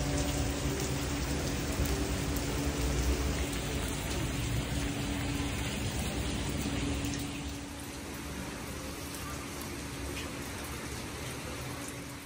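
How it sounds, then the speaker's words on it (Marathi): Light rain falls steadily outdoors at a stay in Maharashtra, a soft, even patter and hiss that is faint and continuous. It eases slightly in the second half. "आहे पाऊस बारीक"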